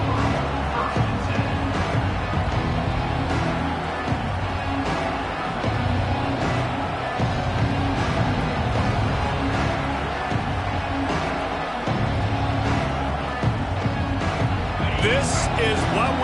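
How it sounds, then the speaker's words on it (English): Steady, dense roar of a football stadium crowd at an American football game, loud and continuous throughout, with a commentator's voice talking over it. "This crowd ready to make its presence known."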